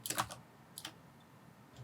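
A computer keyboard used in Photoshop gives a quick cluster of clicks, then a second short pair of key taps, faint and close in a quiet room.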